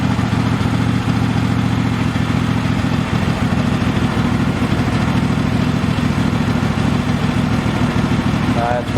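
A Cub Cadet X1 riding mower engine idles close up with a steady, loud, low chugging rumble, and speech is faintly mixed in.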